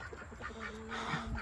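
A duck quacks among chickens, roosters and turkeys in a backyard, giving a few nasal calls over a steady murmur of other fowl, close to the microphone.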